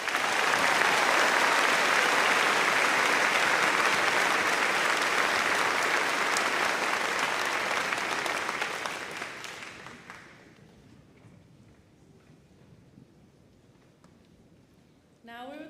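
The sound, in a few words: graduation audience applauding the heroes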